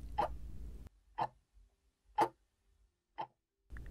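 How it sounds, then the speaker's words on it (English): A clock ticking in slow, evenly spaced single clicks, about one per second, close and clear against near silence. "Maybe the ticking of a clock"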